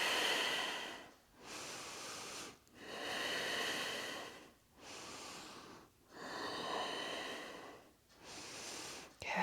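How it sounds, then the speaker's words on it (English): Slow, deep breaths during a yoga pose, with long airy inhales and exhales repeating steadily about every two seconds, close and alone with no talking. "Breathing."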